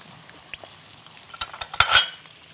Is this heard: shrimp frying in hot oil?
yes